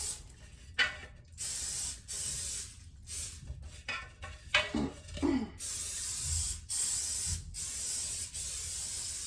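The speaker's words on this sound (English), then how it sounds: "we're going to go ahead and spray our cake dish" Several short bursts of canola oil cooking spray hissing close by onto a cake dish, separated by pauses and faint handling clatter, with no voices.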